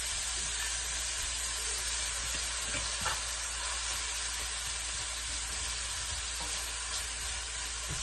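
Onion sizzles and fries steadily in a hot pan, a continuous close hiss with faint crackles and no talking throughout.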